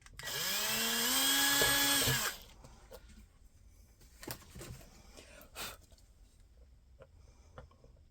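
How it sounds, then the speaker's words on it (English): A power drill whirs loudly for about two seconds, its pitch rising as it spins up, then cuts off, leaving quiet clicks and handling noises. "I'm going to grab my drill motor."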